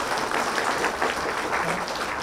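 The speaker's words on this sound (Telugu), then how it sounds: "పిరమిడ్ స్పిరిచువల్ సొసైటీ మూవ్మెంట్కి గట్టిగా చప్పట్లు కొట్టుకుందాం" An audience at a Pyramid Spiritual Society Movement gathering breaks into loud, sustained applause, a dense, even wash of clapping hands throughout.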